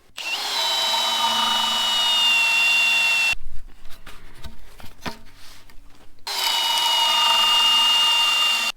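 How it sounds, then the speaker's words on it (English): A power drill whines steadily as it bores a hole into the end of a wooden fence rail, pauses briefly amid clattering and scraping, then starts up again at full speed. "So I start with drilling a hole in each end of the rail."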